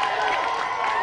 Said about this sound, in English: Round of applause again then, Tim and Eddie.